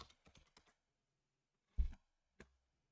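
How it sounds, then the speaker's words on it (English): Typing on a computer keyboard: a quick cluster of light, close keystrokes, then a pause before two isolated, louder key presses in an otherwise quiet room. "What was I typing in?"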